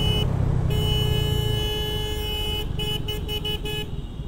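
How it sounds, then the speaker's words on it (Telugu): A steady car horn blares for several seconds, then breaks into a few short honks near the end over low traffic rumble. "హార్న్ కొడితే ఏమైనా తీస్తాడేమో చూద్దాం."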